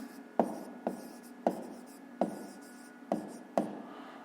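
Handwriting on paper during a fifth-grade maths exercise: six distinct pen strokes, each a sharp scratch that fades, spaced about half a second apart, close and fairly quiet, with no talking.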